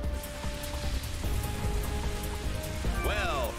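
Steady rain hisses across a battle in the video game Pokemon Battle Revolution, a dense wash with soft tonal game sounds, ending in a rising synthetic sweep.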